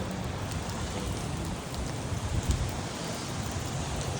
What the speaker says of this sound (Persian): چی باران بد میباره